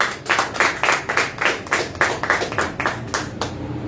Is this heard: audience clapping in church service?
yes